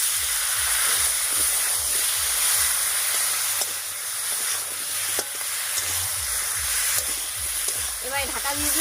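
Flat beans fry in hot oil seasoned with salt and turmeric, giving a loud, steady sizzle with occasional scraping stirs close by.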